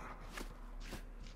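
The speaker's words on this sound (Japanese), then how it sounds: "すげえ足音がする" Heavy footsteps crunch across rubble in the game Metro Exodus, a few distinct steps spaced irregularly, fairly close, over a low steady background hum.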